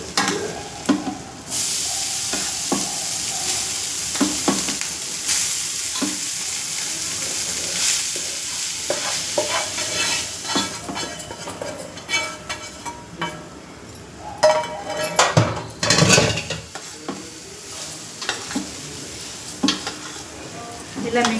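A spoon stirs a sizzling tempering mixed into a dish in a pan, with scraping strokes and occasional clinks of metal over steady frying, close and uneven in loudness.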